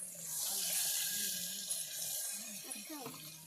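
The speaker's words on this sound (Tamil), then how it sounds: "இப்போ நம்ம எடுத்து புளி தண்ணி ஊற்றிக்கலாம்" Tamarind water poured into a pot while making rasam, a close, steady splashing stream that slowly tapers off toward the end.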